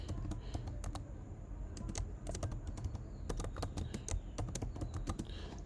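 Rapid, uneven keystrokes clatter on a computer keyboard as a game name is typed in, clicks close and steady over a low room hum, no voices.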